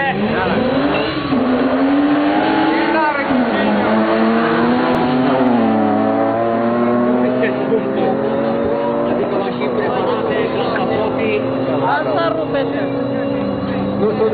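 Two BMW race cars run side by side at Satu Mare airport, engines revving hard and rising in pitch through gear changes with occasional tire squeal, loud and close throughout, with talk underneath.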